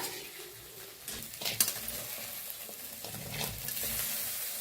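Roasted cluster beans (gavar) being scooped out of a pan onto a plate, with soft scraping and a light clink of a spoon against metal over faint background hiss, fairly quiet throughout.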